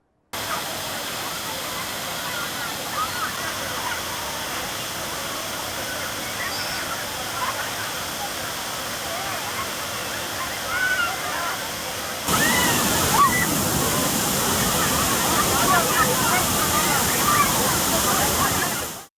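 Floodwaters pour over Kumbakkarai waterfall in the Western Ghats after heavy rain, a steady, close, broadband roar of rushing water that swells louder partway through and holds to the end.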